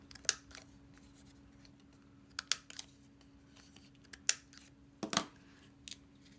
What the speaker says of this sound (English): I'm just going to use my corner punch